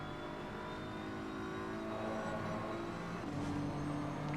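Heavy BMW GT3 race car at Silverstone in a racing game, its engine droning steadily with a shifting pitch as it carries through a corner, then a higher tone after a gear change.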